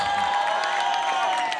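An audience at a carnival choreography contest in Moncrivello claps and cheers for a jury member, steady applause filling the whole short stretch at close range.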